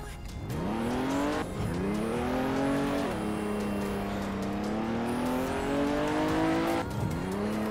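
A supercharged car engine in the Roblox game Mad City revs and climbs through rising pitch sweeps, dropping and surging again between gear-like shifts, loud and close with no talk over it.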